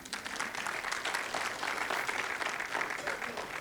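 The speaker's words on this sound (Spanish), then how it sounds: "Un aplauso para ahorita." Applause from a church congregation during a Sunday service, a steady dense patter of many hands that stays fairly even and moderately loud throughout, with no voices over it.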